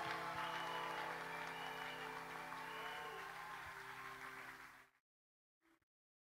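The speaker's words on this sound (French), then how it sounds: "Encouragez-les en acclamant très fort le Seigneur." Wedding audience applauding and cheering, a dense steady wash of clapping with a held musical tone underneath for about five seconds before cutting off, then one brief faint sound after the silence.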